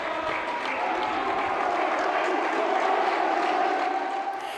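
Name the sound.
thunderous applause at Accra College of Education quiz finale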